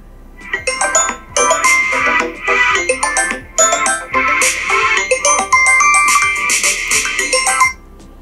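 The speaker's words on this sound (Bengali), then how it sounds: "প্লে সাউন্ড আপনি যদি এটা ক্লিক করেন তাহলে যে জিনিসটা হবে দেখুন" A lost phone rings loudly after Find My Device triggers its play-sound alert, a repeating bright melodic ringtone with short pauses between phrases, close and clear.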